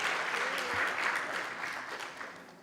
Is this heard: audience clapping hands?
yes